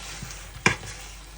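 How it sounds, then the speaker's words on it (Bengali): Chicken wings frying in a pan being stirred, a low continuous sizzle broken by one sharp scrape of a spatula against the pan. "এগুলোকে আমি নেড়ে নেবো ভালো করে"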